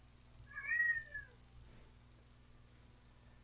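A cat in a Mars colony video game gives one short, clear meow, fairly quiet and alone against a faint steady background hum.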